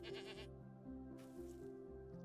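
A goat in the survival game Rising World gives a quick series of nasal, wavering bleats, close and clear, pausing briefly before bleating again.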